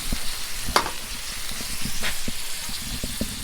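Burgers frying in a pan over medium heat at an outdoor overlanding camp, a steady close sizzle with occasional clicks and scrapes.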